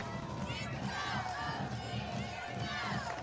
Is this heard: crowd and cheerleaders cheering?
yes